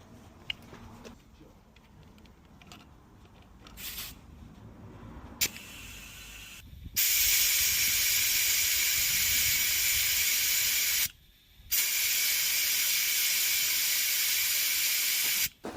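Air compressor hissing while inflating the tyres of a Rover 75, a loud steady rush of air that cuts out briefly and resumes, preceded by quieter clunks and handling noise.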